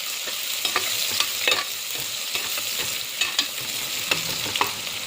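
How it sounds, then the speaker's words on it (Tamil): Onions sizzle steadily in a pan for a soya chunk veg biryani, with a spoon scraping and stirring in repeated light strokes close by. "நல்லா வதங்கட்டும்"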